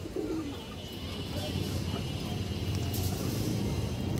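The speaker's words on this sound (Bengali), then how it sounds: "খুবই সুন্দর কবুতর, হাই ফ্লায়ার কবুতর এগুলো দর্শক" High flyer pigeons cooing softly in a loft, low murmuring coos over a steady background hum, with faint chirps and a voice talking at times.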